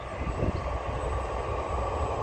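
A Rabid Models Tigercat 40 RC model plane flies at medium throttle outdoors, its small engine giving a steady, fairly distant buzzing drone under wind noise, with no voices.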